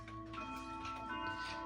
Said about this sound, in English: this is a Ergos movement with just Westminster chime